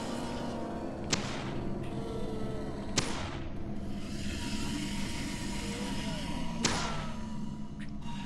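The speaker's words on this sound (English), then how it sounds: "This is how shotguns sound." Shotgun blasts from the Deadly Premonition video game sound three times at uneven intervals, each a sharp crack with a short decaying tail over a steady low background hum.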